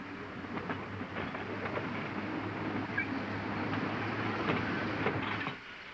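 A Market Street Railway excursion streetcar runs on the rusting rails of the Playland loop on the San Mateo 40 Line, giving a steady, muffled rolling rumble with faint rattles for several seconds before it suddenly drops away.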